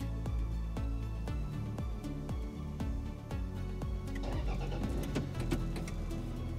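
A Toyota engine started remotely by a GSM alarm SMS command turns over and settles into a steady, fairly quiet idle, with a regular rhythmic pulse and a slightly rougher stretch near the end.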